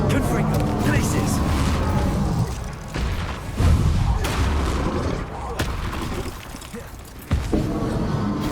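Spell blasts from Hogwarts Legacy, including fire and ice casts, burst in a loud, dense run of booming impacts with sharp transients every second or so over a constant roar of combat.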